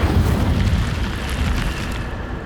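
An Incendio fire spell is cast in Hogwarts Legacy, a loud roaring whoosh of flame that rumbles steadily and slowly fades over a couple of seconds.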